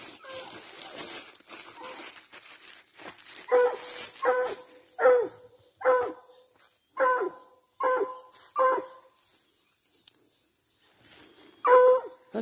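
Several hunting dogs bark and yelp in a steady series of sharp, mid-distance barks while hunting paca, with brief pauses between bursts and a faint trailing yip near the end.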